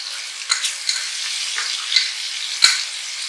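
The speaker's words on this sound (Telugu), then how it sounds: "ఆయిల్ హీట్ అయింది కదా, ఇప్పుడు 1/2 కప్ ఆనియన్స్, చాప్డ్ ఆనియన్స్ అండి" Half a cup of chopped onions sizzling in hot oil, a steady bright frying hiss with a few sharper crackles and pops, close and alone.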